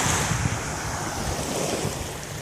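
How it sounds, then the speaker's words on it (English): Choppy, rough sea surf near Naples, Florida, a continuous loud wash of waves mixed with gusting wind buffeting the microphone. "the water's real rough right now."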